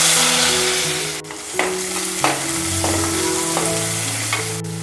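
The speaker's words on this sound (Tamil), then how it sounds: "எண்ணெய் காஞ்சிடுச்சு. கடுகு சேர்த்துக்கிறேன்." Mustard seeds and chopped onion with curry leaves sizzle and crackle in hot oil in a pan, a loud, steady frying hiss with occasional sharp pops and stirring clinks, close and with no talking.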